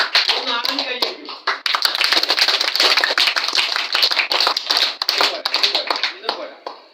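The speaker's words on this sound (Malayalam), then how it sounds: "ഒന്ന് ആഞ്ഞ് കൈയടിക്കും." A group of schoolchildren at a camp in Anandashram clapping hard and fast in a sustained loud burst that swells and ebbs, with voices mixed in.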